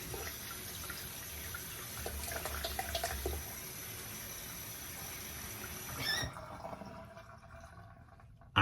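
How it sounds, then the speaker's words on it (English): Running tap water splashes steadily into a sink while a double-edge safety razor is rinsed under it for several seconds, then the flow cuts off and only faint drips and room noise remain. "You just kind of rinse it off under the water."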